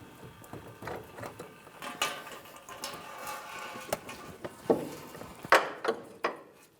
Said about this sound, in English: carefully remove the axle from the vehicle